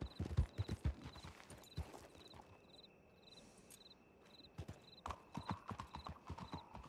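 Horse hooves clip-clop steadily in a video game roleplay, with quick rhythmic footfalls that pause briefly and then resume, over a soft chirping of crickets and insects.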